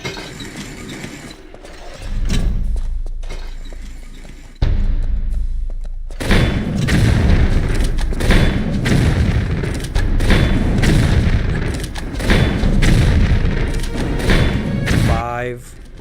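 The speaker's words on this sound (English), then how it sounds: "Rockets." Rockets explode in the video game Tomb Raider III: heavy booming blasts and thuds come repeatedly and loudly, alongside gunfire and mechanical clanks, while a voice talks over parts of it.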